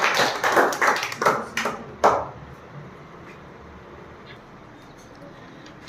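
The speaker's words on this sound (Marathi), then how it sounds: "जोरात टाळ्या" A small group gives a quick round of scattered clapping in a classroom during a matchstick equation puzzle game. A few sharp claps come close together in the first two seconds, then the room falls quiet.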